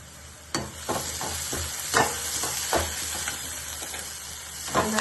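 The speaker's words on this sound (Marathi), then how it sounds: "तर मी एका साईडला फोडणीची तयारी करते." Whole spices tempering in hot oil for a Maharashtrian veg Maratha curry, a steady close sizzle and hiss with several sharp crackles and stirring scrapes spread through, no voices.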